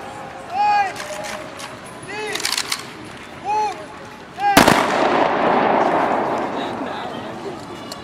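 A ceremonial gun salute on Independence Day in Kaunas sounds as one sudden, loud blast with a long, rolling echo that fades slowly. A voice speaks in short bursts before the shot.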